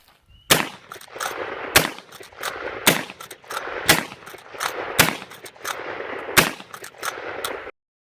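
A Winchester Model 1887 lever-action shotgun fires about seven sharp, loud blasts at a slow, fairly even pace, roughly one per second, with mechanical clacks between shots and no talking.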